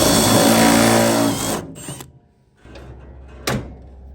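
A car hood is lowered and shut while locking hood pins are being fitted, with a brief mechanical clunk and rattle after a stretch of broadband noise, then a short sharp knock near the end.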